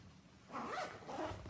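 Single zipper being pulled open on a Vera Bradley bag, a close, raspy zip lasting about a second, with no voices.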